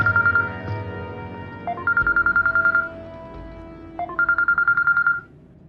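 A phone ringtone repeats in short melodic bursts, three rings in a row with brief gaps between them, clear and close with no talking.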